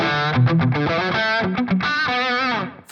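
Electric guitar through Fishman Fluence Open Core Classic pickups on the aggressive second voicing, loud and distorted with a chorus-like shimmer, chugging riffs and sustained chords played alone, close and full.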